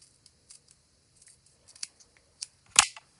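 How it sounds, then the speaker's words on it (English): Scissors snip through a nail polish strip, trimming its edge flat for striped nail art: a handful of small, dry clicks scattered across the moment, ending in one louder, crisp close snip, with no talking. "I'm gonna cut the edge flat"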